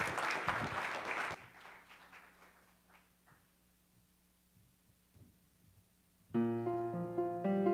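At a Sunday church service, a congregation's applause fills the first second or so, then stops. A low hum follows, and sustained musical tones enter near the end.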